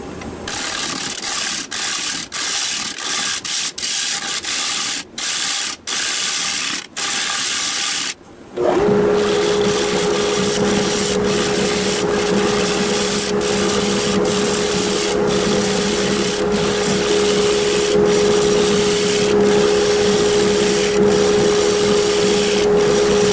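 Loud grinding and rasping of a power tool cutting away Spanish cedar wood, first in choppy bursts with short pauses, then one long continuous run with a steady motor whine.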